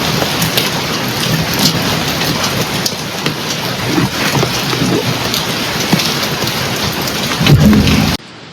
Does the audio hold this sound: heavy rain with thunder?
yes